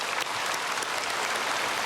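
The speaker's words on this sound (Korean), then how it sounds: "이야, 이거는 박수해줘" A church congregation claps together in a dense, steady burst of applause, even and sustained without voices.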